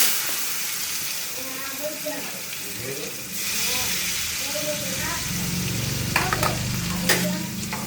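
Green chilies drop into hot oil in a home kitchen, giving a steady sizzle with stirring clatter and a louder frying burst partway through, while people talk over it.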